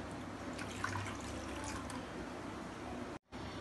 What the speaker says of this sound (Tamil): அதை இந்த மாதிரி நல்லா தண்ணி ஊற்றி நல்லா கரைச்சிக்கோங்க.